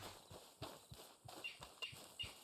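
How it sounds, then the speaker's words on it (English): Horse hooves clip-clopping in the video game Red Dead Online: a faint, steady walking rhythm of soft thuds, about three per second, with light rustling between steps. "there's my horse"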